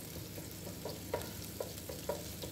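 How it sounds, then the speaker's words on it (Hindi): Ginger garlic paste frying in hot oil for egg fried rice: a close, steady sizzle and crackle with a run of soft, regular spoon-stirring knocks against the pan, no talking. "इसमें मैंने फिर से अदरक लहसुन का पेस्ट ऐड किया है"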